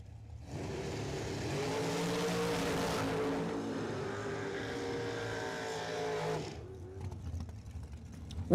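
A dragster and an Oldsmobile Cutlass Supreme launching side by side at a drag strip, a loud sustained engine roar with rising revs that holds for several seconds and then cuts off abruptly.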